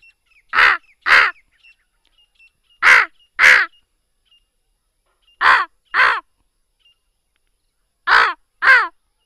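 A human voice mimics a crow's caw in pairs, four sets of two harsh caws separated by short pauses, close and clear.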